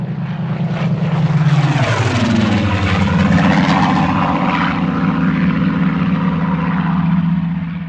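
Supermarine Spitfire aircraft engine, a loud steady propeller drone with the pitch dropping as it passes, then holding a deep sustained roar close by.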